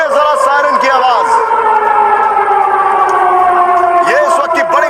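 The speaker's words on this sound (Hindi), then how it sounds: "सुनिए जरा सायरन की आवाज" An air raid siren sounds during a drone alert in Russia, a loud continuous wailing tone slowly sliding in pitch, with voices talking underneath.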